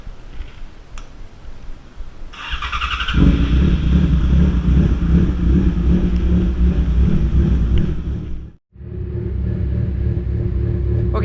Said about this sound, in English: Now we can start the bike back up.